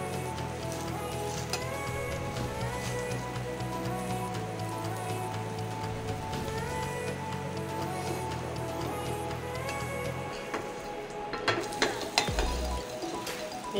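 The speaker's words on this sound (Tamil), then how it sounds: "எப்படியே ஒரு நிமிஷம் ஃப்ரை ஆகட்டும்ங்க," Cut, layered wheat parotta fries in oil on a hot pan, a constant soft sizzle that runs throughout, with a few light clatters near the end.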